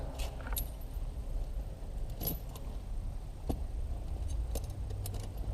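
Metal tire snow chains rattle and jingle as they are handled and fastened with a folding clasp, giving light clinks over a low steady background hum.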